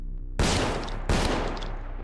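Two loud tranquilizer shotgun blasts from the game SS14, about a second apart, each a sharp burst that trails off into a noisy decay, with no talking.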